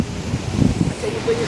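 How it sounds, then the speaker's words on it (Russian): Wind gusting outdoors on a cycling path, a soft continuous rush with low buffeting against the microphone, heard close and steady under faint background sounds. "Да ветер нормальный дует, более-менее дует."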